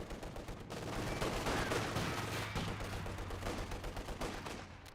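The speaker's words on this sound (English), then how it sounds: "still got the 223 firing away, hitting the guards, softening them up as well" Dense, rapid gunfire in Company of Heroes 2, including a 223 machine gun firing away, heard as a continuous crackling barrage of overlapping shots at fairly low volume, with no talk.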